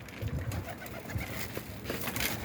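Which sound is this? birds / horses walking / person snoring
birds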